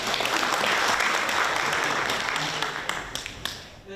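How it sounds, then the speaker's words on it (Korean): A conference audience at a Korean computer graphics event applauds a presenter, dense clapping that stays full for a few seconds, then thins out into scattered claps as it dies away. "박수 좀 부탁드리겠습니다"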